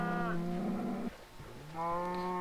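A cow moos in the video game Minecraft, two loud drawn-out moos close by separated by a short pause, with no talking.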